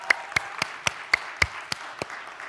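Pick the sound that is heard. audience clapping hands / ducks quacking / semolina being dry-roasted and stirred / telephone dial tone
audience clapping hands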